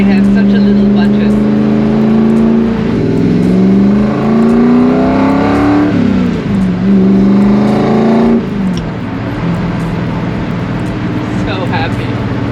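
A small Ford GT40 sports car cruises down a highway, its engine droning loud and close with rising and falling revs through gear changes, and wind and road roar fill the background.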